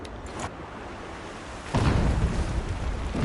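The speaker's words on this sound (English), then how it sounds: "Explosions in the distance." A low rumbling boom of explosions in the game Horizon Zero Dawn rolls in partway through and lingers, muffled and distant, over a steady background hum.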